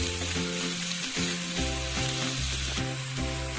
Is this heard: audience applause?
no